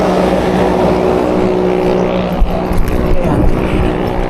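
A motor engine runs steadily near a St. John Mary Vianney Parish church in Calaca, a constant loud drone with a few bumps and rumbles partway through.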